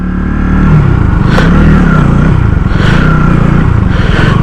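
A KTM Duke 160 motorcycle engine runs loud and close with a steady throbbing hum, swelling slightly in a few brief revs as the bike rides along.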